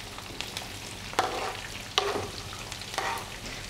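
Four large sliced onions frying in about a quarter cup of hot oil over a medium flame for a beef achari khichri tadka, with a steady sizzle and a few louder stirring scrapes spaced about a second apart.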